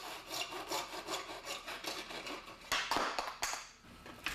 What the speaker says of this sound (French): Découpez les tronçons de conduit à la scie à métaux.